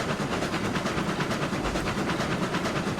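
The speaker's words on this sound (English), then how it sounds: "Sounds good, looks good, feels good, just an easy all-around train to run." A Cook Mogul steam locomotive runs in the RailRoads Online video game, producing a steady, dense rhythmic chuffing and rolling rumble that holds at an even level throughout.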